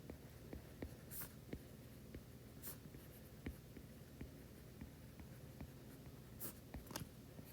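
A pen scratches across paper while an economics problem on perfect complements is worked out, quiet and close, with short strokes and taps in an irregular rhythm and no talk.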